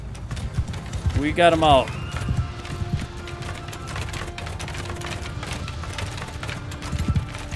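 Galloping horse hooves clatter in a Mount & Blade II Bannerlord battle, a steady rapid clip-clop under a commander shouting orders, with a brief louder vocal burst early on.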